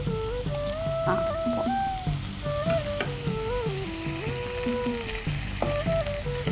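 Cucumber sautés in a pan with a little milk, a continuous moist sizzle and bubbling with occasional stirring scrapes, close and fairly loud, with no speech.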